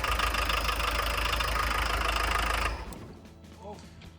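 A VW T25 Westfalia engine runs loud and steady for nearly three seconds, then cuts out abruptly, leaving a quiet room tone with faint knocks.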